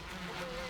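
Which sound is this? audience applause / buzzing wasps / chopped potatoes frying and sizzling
buzzing wasps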